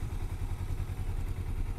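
Motorcycle engine in a driving video game, a steady low rumbling drone holding at a constant pitch throughout, loud and close with no talk over it.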